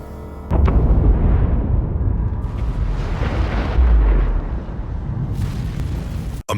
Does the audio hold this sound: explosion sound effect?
yes